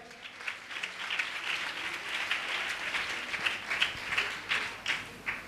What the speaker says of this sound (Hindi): ताली बजाकर हम स्वागत करें।